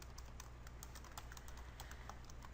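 Soft, quick keystrokes tap on a computer keyboard while a name is typed, faint and close over low background hum, with no talk.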